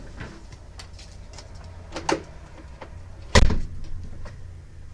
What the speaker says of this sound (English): I could open up the sliding glass door on the other side and close this one.